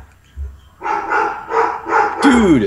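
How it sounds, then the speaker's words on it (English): A dog barks near the start, followed by someone talking loudly and excitedly over several bursts of speech while the animal stays in the background. "Why your dog barking."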